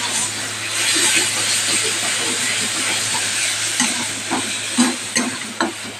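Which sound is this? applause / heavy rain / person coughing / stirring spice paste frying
stirring spice paste frying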